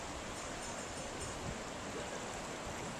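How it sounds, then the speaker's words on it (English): A small river flowing below a castle, heard from a wooden bridge in Linz, Austria, a steady broadband rushing wash of water, even and continuous with no voices. "this is the little river down by the bottom of the castle"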